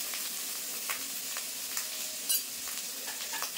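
Ginger, garlic and onion fry with spice powders in a pan, producing a soft, steady sizzle broken by occasional light stirring scrapes and a brief metallic clink.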